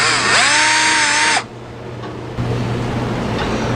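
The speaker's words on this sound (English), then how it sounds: "take a reamer and run the reamer through those holes and just make sure they're clean" A reamer being run through painted screw holes in a Piper Super Cub aircraft wing, heard as a loud, steady high-pitched tool whine for about a second and a half before stopping, leaving a low hum.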